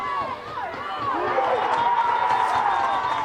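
Crowd cheering after a try at the Harmony 9's Open Men's Grand Final, NSW Māori against WS Indigenous, a loud sustained roar of spectators with whistles and shouts building and holding throughout.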